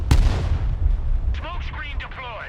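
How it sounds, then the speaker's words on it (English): Long-range artillery in the war video game Broken Arrow fires one deep boom that rolls into a rumbling tail, followed by a voice talking over the fading rumble. "That's long range artillery."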